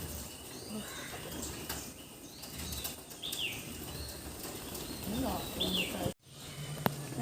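Pigeons feeding on scattered rice in a home courtyard give a few close bursts of wing flapping among faint chirps, with low background noise and a sharp thump near the end.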